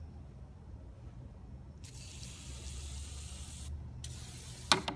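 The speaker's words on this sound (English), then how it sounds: "when I spray this" Spray bottle misting cleaner onto a CNC Shark machine during maintenance, two close hissing bursts, the first longer, over faint low background hum, with a small knock near the end.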